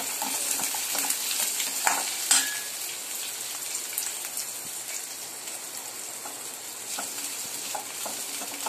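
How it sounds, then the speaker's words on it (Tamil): Onion and capsicum sauté in a pan for gobi manchurian, giving a close, steady sizzle with scattered crackles and the occasional scrape of stirring, with no voices. "லைட்டா வதங்கட்டும் இது"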